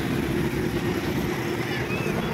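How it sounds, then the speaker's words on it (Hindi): A sport motorcycle rides by on a busy road near Suruchi Beach in Naigaon West, near Mumbai. A steady, loud engine roar blends into traffic noise, and a faint rising whine appears near the end while people talk over it. "और ये देखो स्पोर्ट बाइक यहाँ पर"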